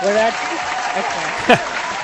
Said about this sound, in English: I'm playing applause